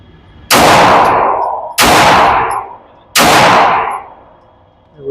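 Three loud, evenly spaced pistol shots from an RIA .45 ACP fired at targets on a range, each a sharp crack followed by a decaying echo.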